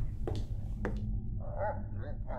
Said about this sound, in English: Oh, it's somebody's dog.